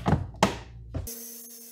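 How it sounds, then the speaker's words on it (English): A couple of dull knocks, then a power drill with a 5/8 inch Forstner bit whirs up into a steady, close, high-pitched drone while boring into wood. "Now I'm going to go ahead and drill in the eye."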